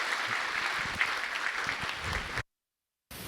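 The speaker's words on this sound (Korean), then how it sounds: "이 시간 출산 장려금 드릴 때 박수로 축하해 주시기 바랍니다." A church congregation applauding together during a Sunday worship service, dense continuous clapping for about two and a half seconds that cuts off abruptly, followed by brief silence and a return of room sound.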